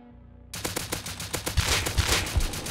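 A silenced gun in the video game Rust fires after a short quiet intro. It lets off a rapid, steady string of muffled shots, close and fairly loud, with deeper thumps recurring through the burst.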